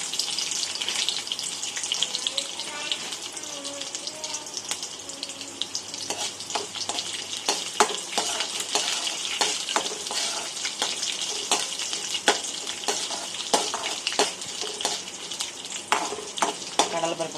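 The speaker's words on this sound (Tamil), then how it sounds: "எண்ணெய் ஊற்றி எண்ணெய் சூடானது கடுகு வெந்தயம் போட்டிருக்கோம்." Chana dal fries in hot oil with mustard seeds and fenugreek, a steady close sizzle with scattered sharp pops and crackles throughout, plus occasional stirring and a faint voice in the background.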